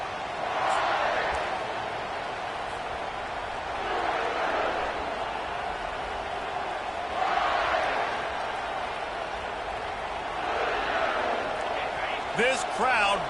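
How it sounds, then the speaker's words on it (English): A packed college football stadium crowd in the video game NCAA 25 roars in broad, repeating swells that rise and fall every few seconds. A commentator's voice talks over the noise. "This crowd bringing an ear-splitting welcome to their visitors"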